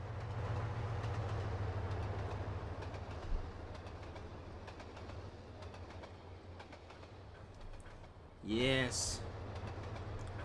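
A train rolls past in a flyby view in the British Midlands rail simulator Trainz Simulator 2, a steady low rumble with clicking rail joints; a brief horn-like tone sounds near the end, and a voice speaks one short word.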